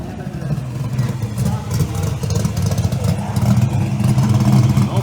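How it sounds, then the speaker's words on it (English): Roaring engine of a ProMod drag car with a 427 cubic inch small block and a 118 mm single turbo on a shakedown run, a loud, rough, building drone that swells toward the end, with voices talking over it. "427 cubic inch small blocks, 118 millimeter single turbo entry, making a shakedown run"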